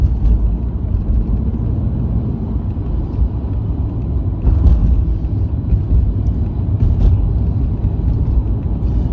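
A 1985 Mercedes 500SEL Euro-spec sedan on the road makes a continuous low rumble of engine and tyres from inside the cabin, steady and fairly loud, with a few faint ticks and bumps.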